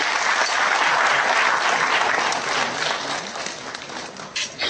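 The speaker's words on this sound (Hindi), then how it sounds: "इन तीनों विभूतियों का जोरदार तालियों से आप स्वागत करें।" A large audience at a book launch event gives loud, sustained applause to welcome three guests. Dense clapping fills the room, then thins out and fades toward the end.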